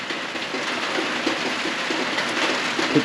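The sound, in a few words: rain falling on a tin roof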